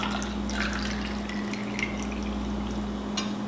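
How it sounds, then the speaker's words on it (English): Vodka being poured into a glass for a St. Patrick's Day cocktail, a steady, soft trickle of liquid close by over a low background hum. "I should pour faster."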